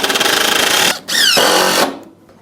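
An electric driver sinks 1¼-inch screws into wood for a clamp rack in two loud, close whirring bursts, the second rising in pitch as the screw seats, then stops.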